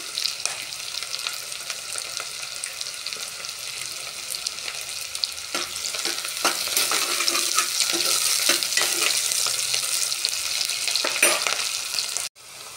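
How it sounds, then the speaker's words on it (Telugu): Onions and green chillies fry in a pan for a goat-leg sharva: a steady, close hiss of sizzling oil with scraping stirs that grows louder midway, ending in a sharp knock. "ఉల్లిపాయలు బాగా వేగనిచ్చుకోవాలి. బాగా వేగిన తర్వాత మిరపకాయలు 2 ముక్కలుగా చింపేస్తున్నా"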